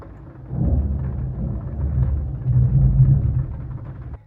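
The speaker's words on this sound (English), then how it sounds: "ever since we got here, it's just been like thunderstorms" A thunderstorm during a stay in Austria, with deep, continuous rolling thunder rumbling over steady rain, swelling louder in the middle and end, with no voices.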